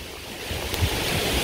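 Heavy rain pours down on Coleman tents in a steady, dense hiss of broadband noise with a slight low rumble, continuous and fairly loud throughout with no voices.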